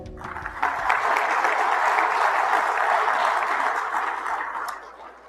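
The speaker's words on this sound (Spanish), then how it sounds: "Démosle un fuerte aplauso." An audience at a public presentation on sustainable infrastructure breaks into loud, sustained applause for an official of the Hidalgo state government, the dense clapping swelling quickly and holding steady before tapering slightly at the end.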